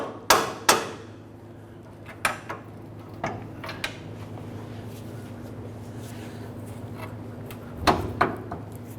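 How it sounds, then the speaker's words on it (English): Metallic knocks and clanks from a pry bar levering out the front lower control arm bushing on a 2008-2012 Honda Accord, a few sharp close hits spaced apart with quieter shuffling between, no talking. "Go ahead and work our pry bar up underneath."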